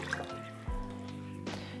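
Vegetable stock poured into a pan of vegan matar paneer with tofu gravy, a soft liquid trickle and splash with a brief louder splash of liquid hitting the hot pan midway, running continuously for under two seconds.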